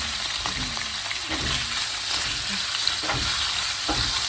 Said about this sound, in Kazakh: Енді осыған ет салып беремін.